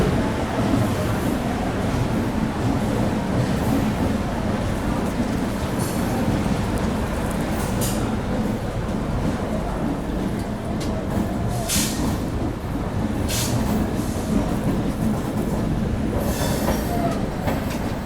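The Patliputra SF Express rumbles out of Jabalpur, heard from inside a coach with a steady loud roar of wheels on rails, faint clickety-clack and occasional brief squeals throughout.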